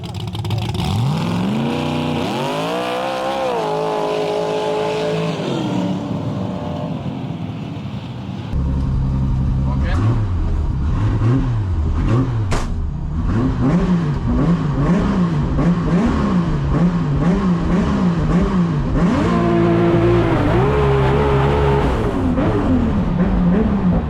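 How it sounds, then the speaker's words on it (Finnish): Loud gravel drag racing cars rev and roar continuously at night, pitch sweeping up and down through repeated acceleration bursts, with a sharp crack partway through. "käytiin yöllä siinä testaamassa sitten vähän noita sorakiihytysautoja"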